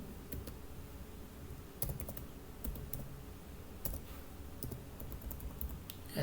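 Someone types "hello world" on a computer keyboard: quiet, close keystrokes tap out in an uneven run of crisp clicks, with no voice.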